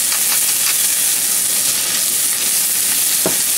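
Onion going into a hot pan already holding chile de árbol and garlic, giving a steady broadband frying sizzle with a few soft stirring clinks, close and continuous throughout.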